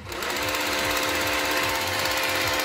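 Parkside cordless jigsaw run without its base plate, a loud steady mechanical buzz with a fast rattling stroke rhythm that holds constant from start to finish, close up and alone.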